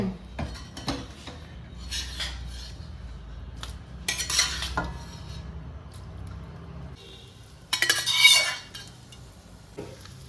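Lemon pieces dropped into a vessel and mixed for a Kerala pickle, giving scattered clinks and scrapes of a utensil against metal, with a louder burst of stirring and clattering near the end.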